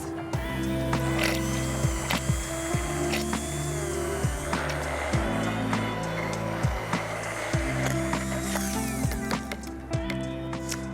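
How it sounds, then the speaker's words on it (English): A kitchen blender whirs through a tapioca, mango, coconut and lime pudding mix, a loud steady motor drone broken by regular dips and pulses as the load shifts. "And I'll give this a blend until it's smooth."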